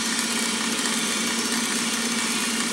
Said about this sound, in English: I'm using a ½ inch diameter end mill.